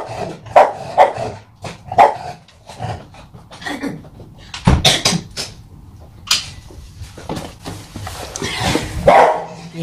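A small dog barks repeatedly in sharp bursts close by indoors, with yips and whimpers between barks and a door or cupboard knocking.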